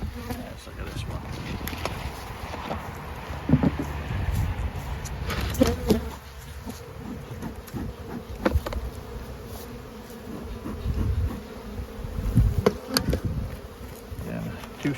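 Honey bees from an open two-story hive colony hum in a dense, continuous buzz, with close passes and scattered knocks and handling noises throughout.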